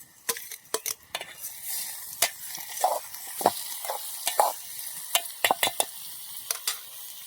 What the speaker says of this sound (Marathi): थोडा आपला टोमॅटो कांदा आहे ना मस्त असं शिजतोय